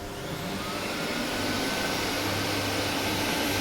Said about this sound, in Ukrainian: Ось такого пилососа вмикаю і поступово буду додати потужність.